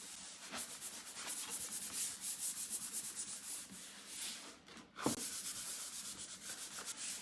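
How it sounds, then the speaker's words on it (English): Steady rhythmic rubbing of a 220-grit sanding sponge across a finished wooden surface, back-and-forth strokes close up, with no talking. "I'm just using a 220 grit sanding sponge."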